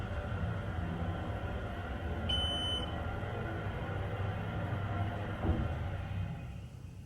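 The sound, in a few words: ThyssenDover Impulse hydraulic elevator motor running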